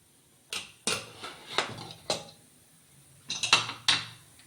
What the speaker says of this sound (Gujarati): કુકર ઠંડુ થઈ ગયું છે. તો હવે ખોલી લેશું.